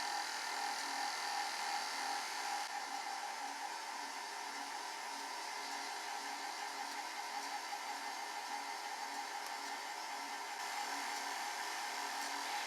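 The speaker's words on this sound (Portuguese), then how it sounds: "E agora é ir acrescentando as gemas, tá? Uma a uma, com a batedeira ligada na velocidade baixa." Electric stand mixer on low speed beating egg yolks, added one at a time, into an orange chiffon cake batter, giving a steady, even whir that runs without a break.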